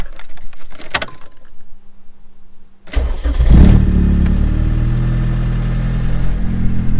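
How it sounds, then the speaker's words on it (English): Keys jingle loudly, then a Honda K20A2-swapped EG Civic with Skunk2 cams cranks and fires, settling into a steady, fairly loud warm-up idle close by. "I'll start her up, let her warm up first."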